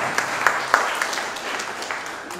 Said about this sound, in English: That's certainly worth an applause.